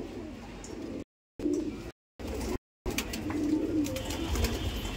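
Pigeons cooing in a loft of fancy breeds such as Saharanpuri, Rampuri and Kalsire high flyers, with steady low soft coos repeating through most of the stretch, broken by a few brief silent gaps.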